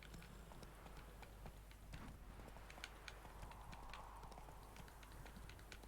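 Roach the horse gallops in The Witcher 3: Hearts of Stone, a fast, steady clip-clop of hooves running continuously over a constant game background.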